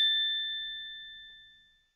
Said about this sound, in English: Don't forget to ring the bell buttons for the next notification.